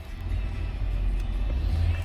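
A 2010 Lincoln MKX pulling away, a low, rumbling engine and road drone that rises slightly and holds steady, heard without speech.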